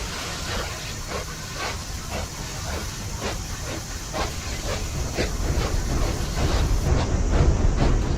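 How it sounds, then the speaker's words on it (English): A steam train in the Poppy Playtime video game moves with a continuous steam hiss and a regular series of chuffing bursts that grow louder and heavier toward the end, with no talking. "I heard the train go, and I thought that was something big coming after us."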